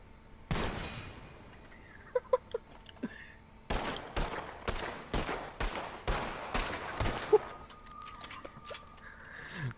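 Gunshots in a cowboy western shooting video game: a sharp opening shot, a few faint pops, then a rapid string of loud cracks fired in quick succession, with scattered quieter shots trailing off.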